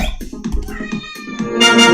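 A pet cat named Bullcat, sitting in a basket, meows several times in close succession, close and fairly loud, with a voice talking over parts of it.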